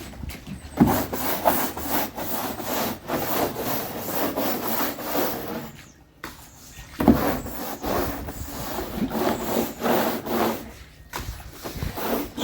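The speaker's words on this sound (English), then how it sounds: "So scrubbing all the walls now, look." Stiff brush strokes scrub the walls of a garden pond being treated with salt, a close, steady rhythmic rasping that breaks off briefly near the middle and again near the end.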